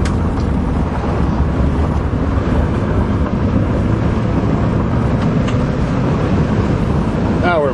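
A summer Honda Accord drives along with a steady, loud rumble of road and engine noise that holds evenly throughout, with wind-like hiss on top.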